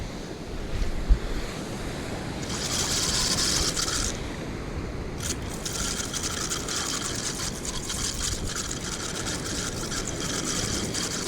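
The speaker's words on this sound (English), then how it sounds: "There's a lot of surf, and when I got here the waves were coming right over." Ocean surf breaking steadily on a winter fishing shore, a continuous loud wash of waves with wind buffeting the microphone and a brief knock near the start.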